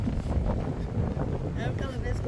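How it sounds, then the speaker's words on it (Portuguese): Wind blows at the shore of Lagoa da Conceição in Florianópolis, a constant, loud buffeting roar against the microphone with faint voices underneath. "Barulho de vento aí."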